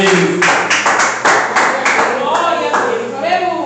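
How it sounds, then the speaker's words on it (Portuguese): A church congregation claps in steady rhythm during a worship service in Pirajuí, São Paulo, the sharp claps close and continuous while a voice speaks over them. "As palmas para Jesus, aleluia."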